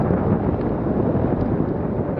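Smooth coastal wind at Fort Funston during hang gliding, a loud, steady roar and buffeting rumble against the microphone that never lets up, with no voices.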